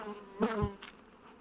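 Honeybees hum around the hives at an apiary, a soft continuous buzz with a few closer passes of individual bees flying by.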